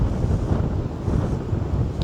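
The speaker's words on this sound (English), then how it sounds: "Sorry about the wind." Strong wind buffeting a microphone outdoors on a very windy town street, a continuous loud low rumble and roar with no speech.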